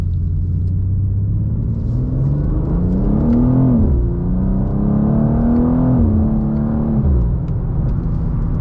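A 2024 BMW M2 accelerating hard, its engine note climbing steadily through the gears in a loud, continuous rumble with clear pitch rises and drops at each shift, heard from inside the car with no talking.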